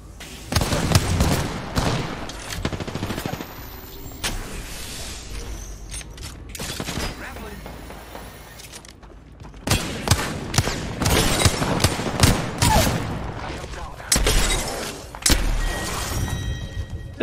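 Charge rifle firing in a video game shooter, loud sharp blasts and mechanical clanks layered with game effects, dense bursts with a quieter stretch in the middle, no talk.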